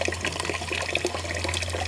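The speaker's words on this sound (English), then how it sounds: "as I actually activate the screw on the press, the juice will really come pouring out" Fresh apple juice streams steadily out of a screw fruit press, a continuous splashing trickle under a constant low hum.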